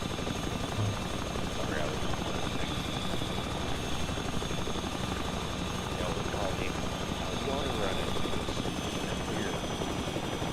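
A video-game helicopter drones with a steady, loud rotor whir that fills the whole stretch without letting up, while a player talks over it now and then.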